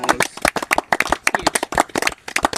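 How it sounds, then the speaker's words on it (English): A small group claps in an irregular, brisk burst of sharp hand claps for about three seconds, congratulating someone who completed 68 loops at Dead Cow Gully. "Yeah, big round of applause."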